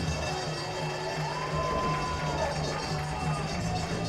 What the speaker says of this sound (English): coming up to the plate with huge cheers